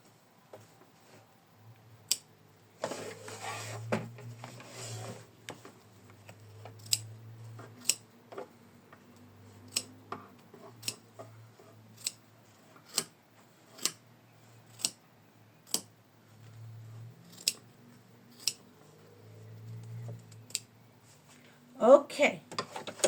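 Scissors trim a cross-stitch bookmark with a dove design, producing a long series of crisp, close snips at a fairly regular pace with brief rustling of fabric between cuts.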